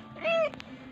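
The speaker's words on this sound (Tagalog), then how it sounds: "Yun po yung pusa namin na gwapo." A single short meow from a house cat, close and clear, with a couple of soft clicks afterward.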